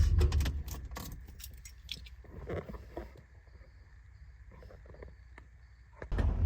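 A 1973 Chrysler Newport is switched off with the key: jingling keys and clicks up close, the engine rumble dropping away, a faint steady tone in the quiet cabin, then a louder thump at the end.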